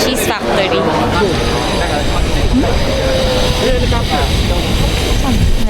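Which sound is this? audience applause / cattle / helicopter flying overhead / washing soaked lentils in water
helicopter flying overhead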